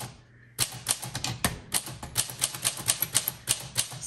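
Typing on a 1934 Corona Sterling flat-top manual typewriter: a quiet start, then a steady run of sharp, close mechanical key strikes, roughly three to four per second, with no talking.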